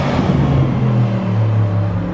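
A 2020 Audi RS7 drives over black ice with its wheels spinning up, giving a steady, loud low engine drone and rumble with no break.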